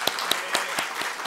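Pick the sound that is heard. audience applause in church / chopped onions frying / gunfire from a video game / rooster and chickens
audience applause in church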